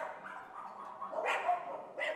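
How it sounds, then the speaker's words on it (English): Dogs shut in boxes give muffled barks and yips, a few short, moderately loud bursts with a brief whimpering tone in between. "These boxes are filled with dogs."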